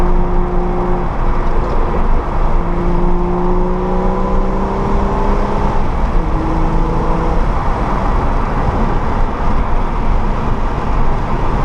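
Catless BMW N55 engine in a car with a manual gearbox, driving steadily with a continuous loud drone and gear-shift pitch changes. The exhaust note rises and falls across shifts under constant road and wind noise.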